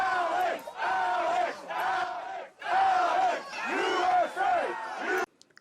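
A crowd of Trump supporters at a political rally, many voices together shouting and chanting in loud rhythmic surges with short gaps between them, close and full.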